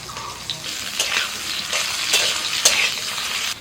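Potatoes dropped into hot oil with green chilies hiss and sizzle steadily, with bursts of bubbling and stirring scrapes close by, for a dish of Malabar spinach.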